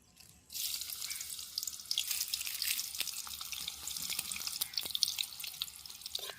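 Chopped onion dropped into hot oil in a kadhai, bursting into a sudden bright, hissing sizzle that carries on steadily with small crackles and pops, close up.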